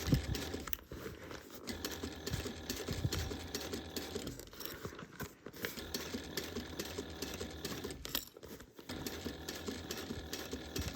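Sewing machine stitching through a corner of a bag being cut and sewn, a quiet steady run of rapid needle clatter with a few brief pauses between bursts.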